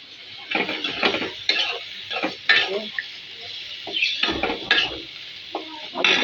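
Potatoes sizzle in hot oil while a utensil stirs and scrapes the pan in irregular strokes, close up and lively, alongside a home-cooked hilsa fish dish, with no talking heard.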